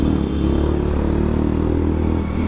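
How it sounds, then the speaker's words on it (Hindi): A motorcycle engine drones steadily while someone rides on the road, loud and close, a continuous low rumble with rattling and wind noise and no talking. "मज़ा आ रहा है मेरे को आज बाइक चलाने में"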